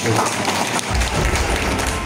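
An audience at an umrah and hajj travel information session claps, a dense patter of applause over a low rumbling thump, with a brief dip partway through before the clapping resumes.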